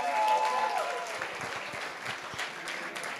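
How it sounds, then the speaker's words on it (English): Audience at a festival panel session giving a steady round of applause, moderately loud and sustained throughout with no talk over it. "Please, let's give them a big round of applause."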